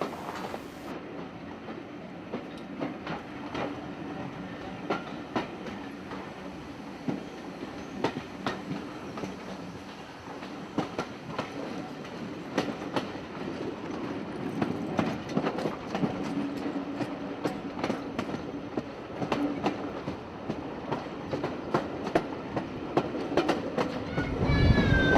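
A steam train runs on the North Yorkshire railway near Goathland, giving a continuous rumble of carriages with rhythmic clickety-clack of wheels over rail joints, moderately close and building louder toward the end.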